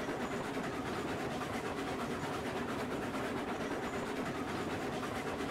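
A heavily loaded freight train hauling iron rolls along rails in the video game Railroads Online, a steady, dense rumble with a constant wash of track noise and no pauses.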